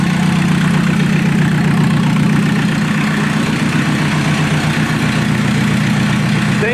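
An old diesel engine known as the Swinging Diesel runs loud and close, a dense steady low-pitched rumble and clatter that holds constant without revving or breaks.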